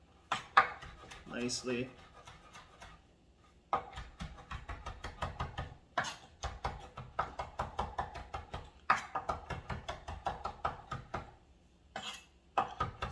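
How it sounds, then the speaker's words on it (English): A knife chops freshly washed parsley on a board, quick, close taps coming in rhythmic bursts with short pauses between them, and someone speaks briefly. "I got some fresh parsley that I washed right here. I'm just gonna chop this"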